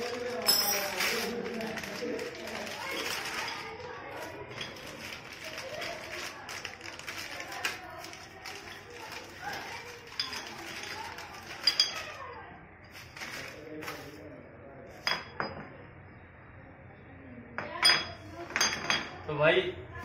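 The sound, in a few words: opening motorcycle rear brake to change brake shoes, metal clinking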